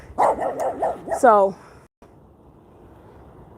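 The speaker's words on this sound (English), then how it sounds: "That's my neighbor's dog." A neighbor's dog barks in a garden, several quick, loud yipping barks followed by a higher drawn-out whine, close by, after which only faint background noise remains.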